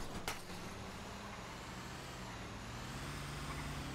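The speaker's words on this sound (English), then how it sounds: "We following the garbage truck?" A garbage truck engine in the video game GTA 5 drones steadily at low volume, a continuous idling rumble with a brief sharp click near the start and no talk.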